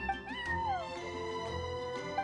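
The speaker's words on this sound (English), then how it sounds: "I'm sorry, that's my neighbor's cat." A cat meows several times in Genshin Impact, with rising and falling tonal calls over sustained game music. No talk is heard.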